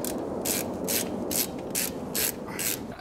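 A ratchet wrench with a 14 mm socket tightens a brake bolt on a G35/350z during a brake install, giving about seven evenly spaced bursts of close, crisp clicking.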